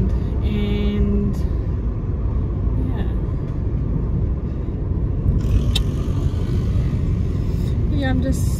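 Interior of a car driving along a road, with a steady, dense low rumble of engine and tyres filling the cabin continuously and no clear breaks.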